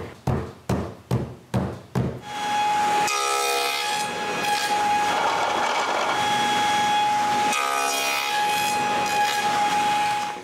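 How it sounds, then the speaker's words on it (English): Small wooden pieces stuck together on a sacrificial sheet of plywood take a few sharp knocks, then a saw cuts box joints through them with a sustained, whining roar lasting several seconds. "I stick them together on a sacrificial piece of plywood and cut the box joints"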